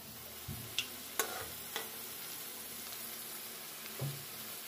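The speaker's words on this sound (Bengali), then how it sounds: "এটা শুধু ব্যাটারের মধ্যে দিয়েই ভেজে নেয়।" Battered potato snacks deep fry in oil with a continuous bubbling sizzle, broken by a few sharp clinks and taps of a utensil against the pan, close by and without speech.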